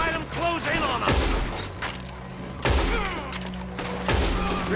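Gunfire during a shootout in the Red Dead Redemption 2 video game, several heavy shots booming at intervals over busy background sound and voices.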